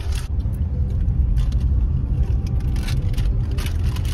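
A car driving along a hill road in the Gurgaon hills, with a steady, loud engine rumble and road noise running throughout.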